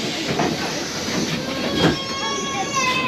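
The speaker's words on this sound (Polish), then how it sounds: "Przyjechał nasz S-Bahn S2." Berlin S-Bahn S2 commuter train riding, with a steady rumble of the moving carriage, a soft hiss and faint rail clatter continuing throughout, with no talk.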